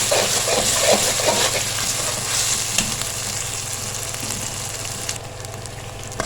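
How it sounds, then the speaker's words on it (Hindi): Ginger and garlic fry with chicken in a pan, giving a steady close sizzle and crackle with occasional stirring scrapes and no talk, for a chicken biryani. "हम यहाँ पे डाल देंगे और इसको अच्छे से मिक्स करेंगे और 2 से 3 मिनट इसको भूनेंगे"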